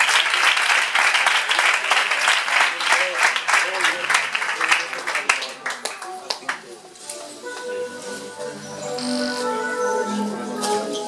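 A church congregation claps together, a dense burst of applause that gradually thins into scattered claps before giving way to music and talk near the end.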